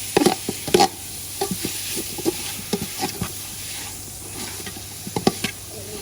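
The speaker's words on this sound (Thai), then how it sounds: "คั่วเนื้อกับ พริกแกงที่เราตำแล้วตะกี้นะครับทุกคน" Beef dry-fried with freshly pounded jungle curry paste in a pan, stirred in irregular scraping bursts over a low continuous sizzle, close and fairly quiet.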